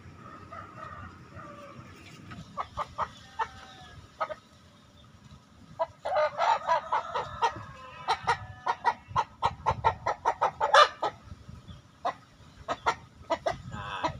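Young F2 crossbred Bangkok roosters cluck in bursts of short, repeated calls, fairly close, growing busier and louder midway through.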